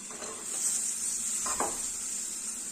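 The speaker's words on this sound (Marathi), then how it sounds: "हे सर्व व्यवस्थित तेलावर आपल्याला परतून घ्यायचे" Potato pieces and cluster beans being sautéed in oil in a pan for a gavar bhaji, with a soft steady sizzle and a couple of brief stirring scrapes, close and without talk.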